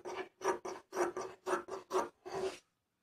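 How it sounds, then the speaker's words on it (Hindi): Fabric being cut with scissors around a back neck design, a series of about seven short crisp snips in steady rhythm, close and clear with no talking. "इसमें कट लगा लेंगे ताकि अच्छे से ये फोल्ड हो सके"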